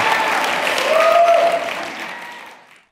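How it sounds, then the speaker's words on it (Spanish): Audience applause at a debate on Saturday versus Sunday worship, a dense steady clapping from the crowd that swells slightly midway and then tapers off toward the end. "apláudame cuando quieran"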